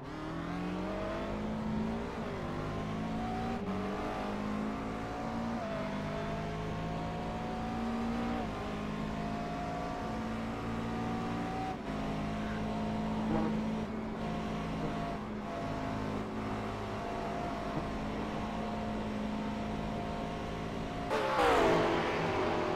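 GT race car onboard at the 24 Hours of Spa, a loud continuous engine drone rising through the gears with repeated upshifts, steady and close, without any talk.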